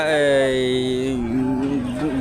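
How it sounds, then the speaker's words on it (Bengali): A cow at a cattle market lets out one long, drawn-out moo that wavers and dips in pitch, loud and close by. "পর্যাপ্ত পরিমাণে এই বাজারে গরু আছে"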